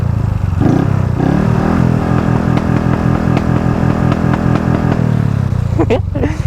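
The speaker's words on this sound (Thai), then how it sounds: "อันนี้คือท่อยิงนะท่อยิงก็ สามารถเลือกได้นะทุกคนว่า จะให้มันยิงแบบว่ารอบเท่าไหร่ครับ" A motorcycle fitted with a launch-control NK ECU box and a popping exhaust idles nearby in a rapid, loud, uneven putter, with a couple of sharp pops near the end.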